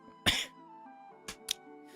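A person with a lingering cough coughs once sharply and fairly close, then gives two shorter coughs over a quiet background hum.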